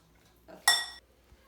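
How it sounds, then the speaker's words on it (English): A metal spoon scoops avocado into a bowl, giving one short, bright clink against the bowl after a soft scrape, in an otherwise quiet room. "And continue to scoop the avocado"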